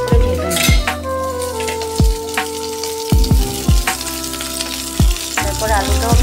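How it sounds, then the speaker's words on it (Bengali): Capsicum sizzles in hot oil in a home kitchen, a steady crackle broken by sharp clinks and scrapes of a utensil stirring the pan. "ক্যাপসিকামটাকেও আমি এভাবে করে ভেজে নেব"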